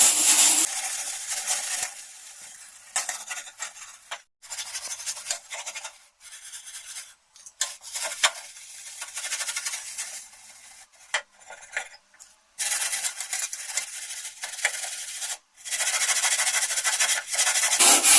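Hard stain remover liquid being scrubbed over an old, heavily stained gas stove, a dry rhythmic rubbing and scouring in close bursts with brief pauses between strokes.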